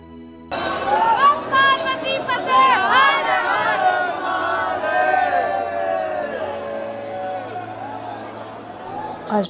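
A packed crowd inside the Baglamukhi temple at Nalkheda, with loud overlapping chatter, calls and devotional voices filling the space and staying busy throughout.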